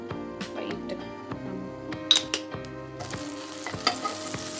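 Butter oil heats lightly in a pan on a stovetop, giving a soft, steady sizzle broken by sharp clicks and utensil taps, with the frying growing brighter and fuller partway through.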